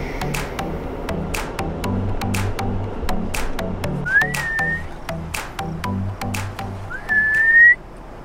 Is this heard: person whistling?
yes